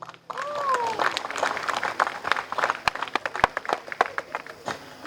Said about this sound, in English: let us clap for Malay for the very last time